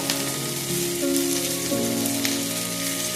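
Capsicum cooking in hot oil for a masala curry, giving a steady close sizzle and crackle of frying, with faint background tones and no talking.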